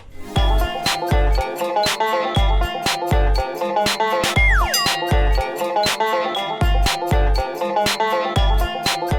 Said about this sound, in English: the beat sounds like this